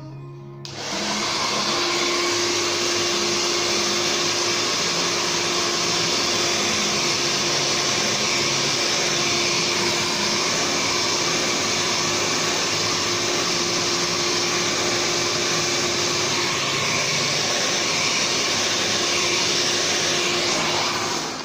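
Hair dryer blowing steadily and loudly at close range while straightening a long beard, a continuous whooshing roar with a faint steady whine that runs unbroken for about twenty seconds after a brief start.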